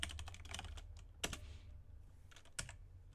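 Sparse, crisp keystrokes on a computer keyboard while entering a Nix package search command, a handful of sharp clicks standing alone over a low background hum.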